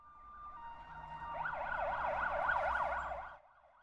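A wailing ambulance siren rises in volume, its rapid up-and-down tone cycling steadily, then cuts off abruptly near the end.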